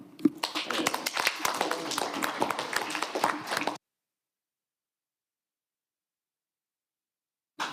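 A council meeting crowd claps together for about four seconds, a dense patter of applause that stops abruptly and is followed by silence.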